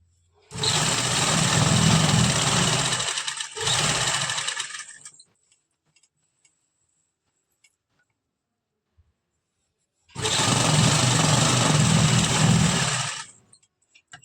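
Sewing machine stitching a palazzo, two loud bursts of rapid whirring stitching separated by a short pause, then silence, then another long run of stitching, close and alone.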